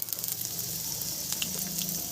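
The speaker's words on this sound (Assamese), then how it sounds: "ইফালে মাছ ভাজিছিলোঁ, তাতে দি দিলোঁ অলপ জিৰা" Cumin and garlic sizzle in hot oil in a pan where fish is frying, a steady, crackling hiss with small pops, close and moderately quiet.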